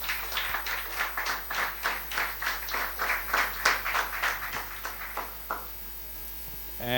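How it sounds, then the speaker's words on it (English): An audience at an awards ceremony claps in a rhythmic burst of applause for several seconds, then it fades to a low hum of the room. "it deserves a big round of applause from you."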